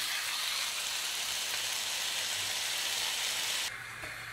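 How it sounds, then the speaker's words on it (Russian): Onion frying in a pan, a steady broadband sizzle and hiss that continues throughout, dropping slightly in level near the end, with no talk. "Пока лук жарится"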